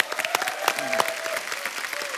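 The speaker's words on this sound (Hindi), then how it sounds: "इनके लिए जोरदार तालियां" A studio audience at a TV comedy show applauds a guest's wife, a short, energetic burst of clapping lasting about two seconds with voices and music faintly underneath.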